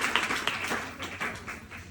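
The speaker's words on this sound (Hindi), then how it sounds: "तालियां बजाओ सर के लिए" A small audience at a seminar claps for a speaker, a brief, fairly faint patter of scattered hand claps in an indoor hall.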